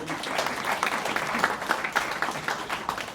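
A theatre audience in an auditorium gives steady applause after a stage performance of Oedipus, many hands clapping at once in a dense, lively wash with no pauses.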